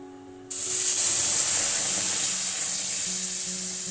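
Water poured into a hot kadhai while cooking pumpkin curry with dal. It bursts into a loud, sudden hiss and sizzle that holds steady and slowly eases off.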